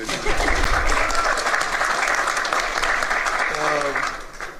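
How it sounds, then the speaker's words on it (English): Applause from a sizable audience, steady and full throughout, with a voice briefly audible near the end. "You can clap, it's okay."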